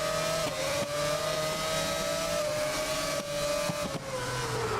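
Formula 1 car engine in the racing game GRID (2019), a steady high-pitched whine that holds and sways slightly, with a few brief dips at gear shifts, loud and close, no voices.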